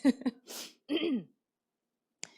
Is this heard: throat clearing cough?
yes